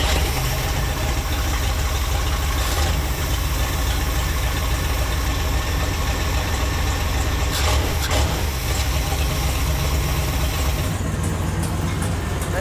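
Old car engine missing its catalytic converter and entire downpipe idles loud and rough, a dense close rumble that continues steadily throughout.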